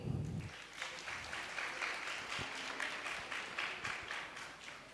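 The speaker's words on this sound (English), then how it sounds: "An applause for you all, please." A school audience breaks into sustained applause, dense crowd clapping that carries steadily for about five seconds after a short burst of voice at the start.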